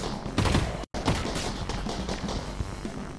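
Gunfire rattles in the Half-Life: Alyx virtual reality game during an alleyway ambush, dense bursts of shots and thumps heard close and loud, with a brief dropout partway through.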